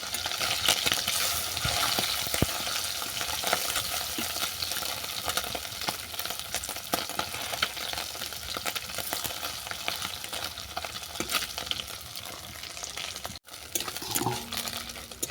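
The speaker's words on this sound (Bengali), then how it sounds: "দেখো মাছগুলো উল্টো পাতা বাদামি করে ভাজা হয়ে গেছে" Mourola fish browning in hot oil crackle and sizzle steadily up close, with a few light clinks of stirring and a short break near the end.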